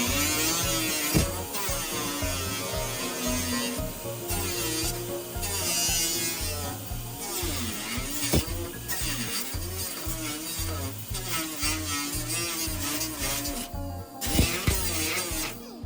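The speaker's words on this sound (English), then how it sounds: "Take a grinder to those." A grinder cuts off an old weak plastic mount on a Craftsman riding tractor, a close, harsh buzzing whine that shifts in pitch as it bites, with occasional louder scraping bursts.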